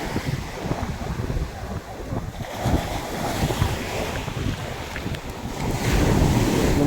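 Strong sea waves surge onto a shore lined with many coconut trees, a continuous rushing wash with heavy wind buffeting the microphone, the roar building louder toward the end.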